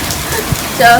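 Heavy rain drums on a roof in a steady close wash of droplets, with a brief thump midway and a short tonal sound near the end.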